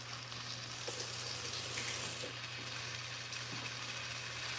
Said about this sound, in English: now I'm gonna add the onions here.